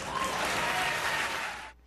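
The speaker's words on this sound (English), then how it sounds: "You can applaud." An audience bursts into loud, dense applause that holds steady for over a second and then cuts off abruptly.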